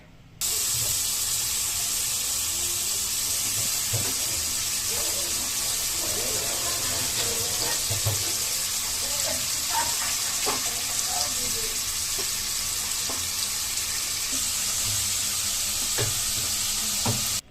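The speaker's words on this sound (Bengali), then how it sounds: "আর একটু পানি দিয়ে মশলাটা আরও ভালোভাবে কষিয়ে নিচ্ছি।" Spice paste for a loitta shutki bhuna with jackfruit seeds sizzles and bubbles steadily in a pan after water is added, a continuous hiss with occasional stirring scrapes and pops.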